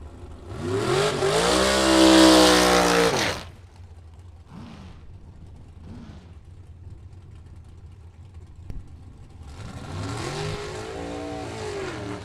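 Drag racing dragster launching down the strip at a Sunday Super Pro event, a loud, rising roar of several seconds that fades away, with a few faint pops and a second engine roaring in near the end.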